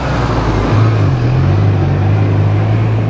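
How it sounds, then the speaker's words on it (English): A loud city bus passes close by on a street in Mérida, Yucatán, heard from a motorcycle. A heavy low engine rumble and drone rises and holds steady over constant traffic noise. "A bus, that's our worst nightmare. They're super loud"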